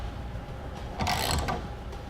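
A ratchet tightens the front of a Thule TracRac sliding truck bed ladder rack, giving a short burst of quick close clicking that lasts about half a second against steady background noise.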